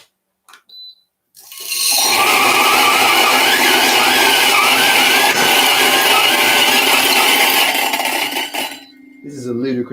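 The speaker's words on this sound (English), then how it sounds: "This is a ludicrously fast grinder on 1600 RPM" A fast coffee grinder spinning at 1600 RPM whirs loudly and steadily for about seven seconds, with a wavering whine over the roar before it cuts out, followed by a few faint clicks.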